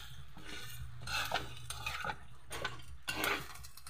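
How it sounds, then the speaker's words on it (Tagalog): Pork hock (pata) frying in its own rendered fat for humba, a soft sizzle under repeated scraping and clinks of a utensil stirring in the pan, in uneven bursts, with no one speaking. "Iprito natin yan sa sarili niya mantika."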